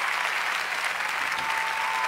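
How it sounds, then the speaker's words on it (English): A concert audience applauds. The clapping is steady and dense, and it keeps up at an even level the whole time with no voices on top. "Clap your hands."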